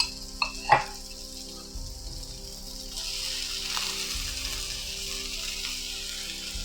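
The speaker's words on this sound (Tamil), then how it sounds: "இதெல்லாம் நம்ம இஞ்சி பூண்டு பேஸ்ட் போடுறோம்" Ginger garlic paste hits a pan of sautéed onion and tomato for a cauliflower gravy, a quiet, steady sizzle with a couple of sharp clinks of a utensil near the start.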